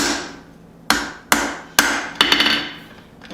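Hot rivet being set on forged tongs made from flat bar, struck with a hammer: four sharp, loud metallic blows at spaced intervals, then a quick cluster of lighter ringing taps, each with a short decaying ring.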